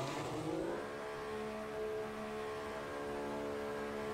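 A Formula 1 car engine in a racing video game, the Australian race, holds a steady high-pitched whine with a rising pitch sweep near the start, then a sustained drone, loud and continuous without talk.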